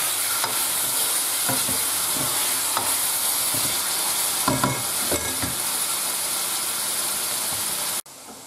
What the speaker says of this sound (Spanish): Ahora echamos el lomo. Y doramos un poquito.